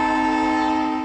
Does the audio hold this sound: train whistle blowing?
yes